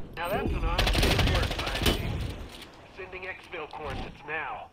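Rapid automatic gunfire in the multiplayer game Predator: Hunting Grounds, loud sustained bursts up front that thin into scattered shots, with a player's voice talking over the later part.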